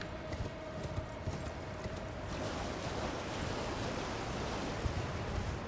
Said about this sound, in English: So let's get on our horse here